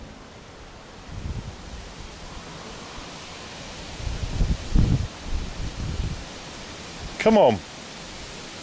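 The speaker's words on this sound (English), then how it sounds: "There's a lot of wind tonight." Strong night wind roars as a steady broadband rush with gusty swells and rustling, while a voice briefly speaks over it.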